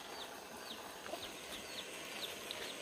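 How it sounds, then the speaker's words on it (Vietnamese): Chickens shut in a coop give soft, scattered clucks and short calls, faint and somewhat distant over a hissy background, with no talking. "Con gà thì nhốt trong này."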